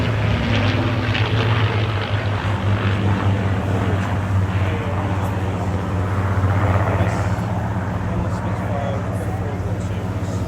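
Spitfire and Mustang propeller aircraft fly at a Blackpool airshow, a steady loud engine drone with low throbbing hum holding throughout, with a crowd and announcer-type talk underneath.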